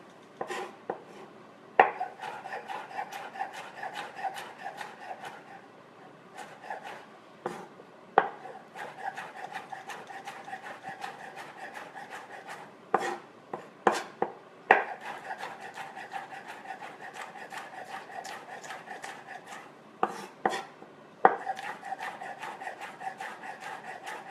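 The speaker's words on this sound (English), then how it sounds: "We're just going to do some sliced habaneros here." Knife rocking through habanero peppers on a cutting board, slicing thin rings for beef chili, with a steady run of quick crisp cuts and occasional sharper board knocks, close and clear with no talking.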